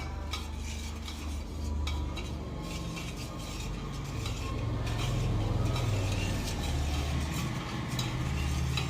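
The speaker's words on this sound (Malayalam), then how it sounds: "ഇടയ്ക്കിടയ്ക്ക് ഒന്ന് ഇളക്കി കൊടുക്കാം" Black seed oil heating in a pan, stirred now and then, with a continuous low rumbling hiss, soft utensil scrapes against the metal and a gradual swell in intensity, no voices.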